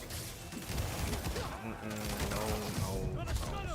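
Gunfire in a Spider-Man video game comes as fairly quiet, scattered volleys of shots and crashes mixed with in-game character voices and other action sounds.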